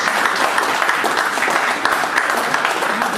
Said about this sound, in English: If you can give a big round of applause to